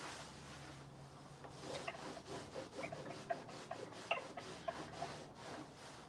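Soft rhythmic rubbing strokes of a damp towel across a painted wooden desk, repeated back and forth at close range with no talking.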